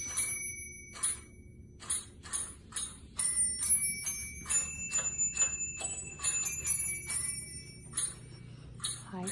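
Glockenspiel chimes ring out alone in a string of bright, clear strikes, some overlapping, each with a short shimmering ring as a holiday tune plays.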